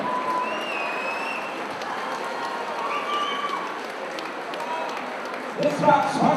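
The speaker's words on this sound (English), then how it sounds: "Ladies and gentlemen, round of applause for both fighters this evening." A crowd at a UK MMA cage event applauding both fighters after a bout, a moderate wash of clapping and cheering under continuous announcer talk, swelling briefly near the end.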